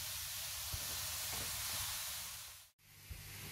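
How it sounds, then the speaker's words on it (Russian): Carrots frying in a pan over medium-low heat with the lid off, giving a steady loud sizzle and hiss, broken by a brief cut near the end, with no voices. "И вот так жарим ее, делаем такую зажарку."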